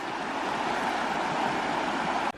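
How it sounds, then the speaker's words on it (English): Steady rushing water of a river flowing past a campsite, a dense continuous wash close by with no voices. "you had the sound of the river"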